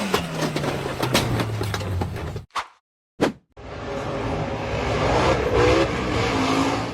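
An off-road buggy's engine roars and revs as it accelerates up a rough dirt slope, loud and close, with a few abrupt breaks in the sound.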